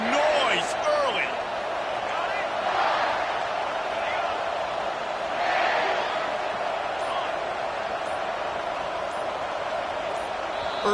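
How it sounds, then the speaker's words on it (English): A crowd at a night football game makes a dense, steady roar of cheering and chatter throughout, with a few whistle-like tones and swells of noise, loud and unbroken. "This crowd bringing the energy and noise early."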